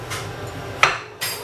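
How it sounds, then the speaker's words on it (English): Knife and fork scraping and clinking on a plate while warmed mackerel fish is shredded, with two sharp metallic taps over a faint steady background hum. "So here's my warmed mackerel fish, and I'm going to shred it."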